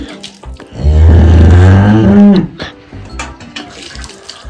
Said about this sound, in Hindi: सबसे पहले हम अच्छे से थन धोएंगे